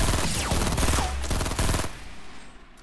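Rapid automatic gunfire from Fortnite gameplay, a loud, dense burst of shots that fills the first two seconds, then cuts off and leaves a fading tail.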